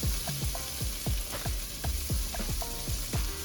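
Garlic and ginger fry in a pan with browned curry, a soft close sizzle broken by rapid repeated tapping and spattering pops in a quick irregular rhythm.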